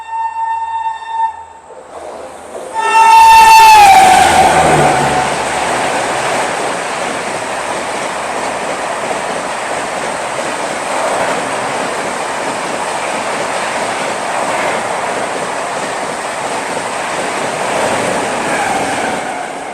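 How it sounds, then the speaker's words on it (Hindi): The Central Railway Rajdhani Express 22222 races past at high speed, around 110 to 120. A brief horn blast gives way to a loud, close, sustained rushing roar of wagons that holds steady to the end. "आ गई है सेंट्रल रेलवे की राजधानी एक्सप्रेस"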